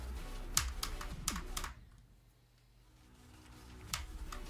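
Several quick bursts of keystrokes on a computer keyboard, near and moderately loud, with a short pause in the middle before more tapping. A gaming stream plays faintly in the background.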